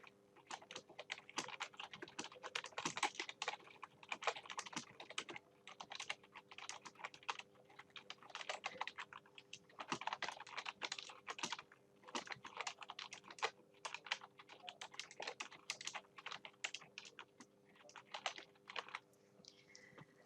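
Typing on a computer keyboard while entering text in Illustrator: quiet, rapid clusters of key clicks in bursts with short pauses, close and faint over a low steady hum.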